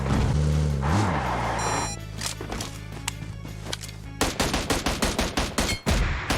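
Gunfire in PUBG Mobile: a heavy rumbling blast at first, then a stretch of scattered shots, and finally a rapid evenly spaced burst of loud automatic fire up close.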